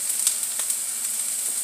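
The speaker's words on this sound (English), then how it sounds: "Soften up these onions." Onions soften as they fry in a pan, giving a gentle, steady sizzle with faint crackles, close but fairly quiet, heard alone without talk.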